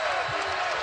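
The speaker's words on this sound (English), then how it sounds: "crowd rising to its feet now at McHale Center" Basketball arena crowd at McHale Center during a UCLA at Arizona college game cheers in a continuous broad roar, with a commentator talking over it.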